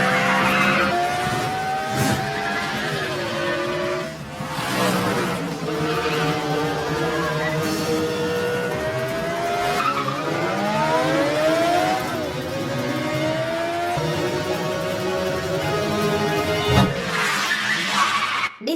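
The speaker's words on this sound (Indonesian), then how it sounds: "Aksi kejar-kejaran mobil ditampilkan di sini." Car chase in a 2021 action film, with engines roaring, tires squealing and skidding in repeated sliding tones, sirens wailing and brief impacts, all loud and continuous with no talking.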